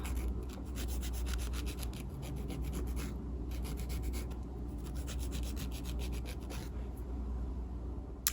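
A file rasps back and forth across a natural fingernail edge, shaping it into an oval for a press-on manicure, producing close, rhythmic scratchy strokes in quick repeated bursts with brief pauses.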